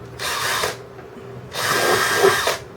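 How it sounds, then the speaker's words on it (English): A handheld power drill bores bolt holes through a plastic storage bucket in two loud, close whirring bursts, the second longer than the first, with a short pause between them and no talk. "Then take your drill, the right size drill bit for the screws, rather the bolts that you bought."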